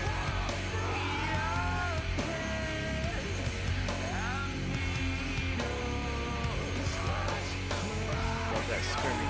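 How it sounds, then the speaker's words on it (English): Screaming vocals in a song, a harsh sustained yell riding over dense distorted guitars, heavy bass and drums, loud and continuous throughout. "Love that screaming."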